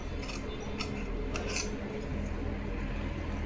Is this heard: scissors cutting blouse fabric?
yes